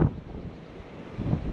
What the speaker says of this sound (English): Oh my gosh, this wind is just freaking smacking us from the side here.